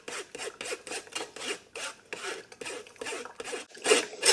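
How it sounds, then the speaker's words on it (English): A spoon scrapes frozen tomato pulp around inside a metal strainer in quick, rhythmic back-and-forth rasping strokes, about two per second. Each stroke sounds close and gritty, and the last one is louder, with no talking. "I'm just kind of scraping to the side and letting the juice run to the bottom"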